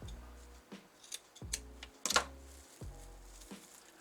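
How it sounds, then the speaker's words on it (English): Scissors snip through felt in a handful of crisp, separate cuts with short pauses between them, close by and fairly quiet. "get my scissors in here, trying to make sure that I just cut the felt."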